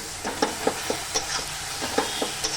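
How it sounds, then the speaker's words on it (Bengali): Leafy greens with salt and turmeric fry in oil in a home kitchen, a soft continuous sizzle broken by a regular rhythm of spatula taps and scrapes against the pan. "দেখো এবার চলো সুন্দরভাবে ভেজে নিই"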